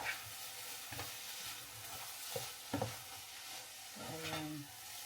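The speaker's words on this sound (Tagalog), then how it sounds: "Dito muna tayo sa atin niluluto na itlog kasi baka masunog na to." Eggs frying in a pan for a home-cooked breakfast, a soft steady sizzle with intermittent spatula scrapes and stirring knocks, close but fairly quiet.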